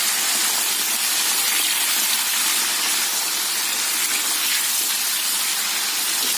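Green chili sambal with stinky beans stirred and frying in a pan, a loud, steady hiss of sizzling oil filling the whole stretch with no talking.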